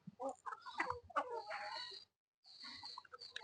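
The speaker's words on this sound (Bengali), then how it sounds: "দেখো কত মুরগি, একটা হাঁস আছে।" Chickens, including a black fighter breed, clucking and calling together in a yard where a duck is also present, several overlapping clucks and squawks nearby, moderately quiet with a brief pause.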